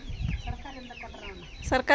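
Chickens cluck in short bursts near the end, after a stretch of low murmuring background noise and indistinct activity.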